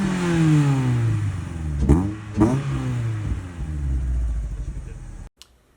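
A 1999 Mazda Miata NB fitted with a Racing Beat Roadster Sport exhaust revs up with rising and falling engine pitch, two sharp throttle blips in the middle, loud and close, then cuts off abruptly.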